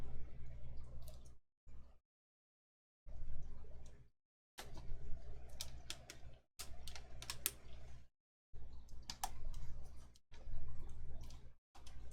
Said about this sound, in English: Oh, your keyboard.